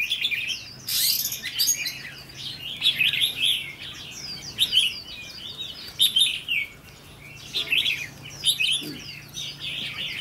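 Bursts of bright, chattering calls of a red-whiskered bulbul repeat close by, with warbling phrases rising and falling over a quiet background.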